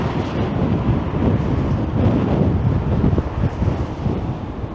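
Strong, cold wind blows steadily along a downtown Toronto street on University Avenue, a dense, continuous roar buffeting the microphone with no voices heard.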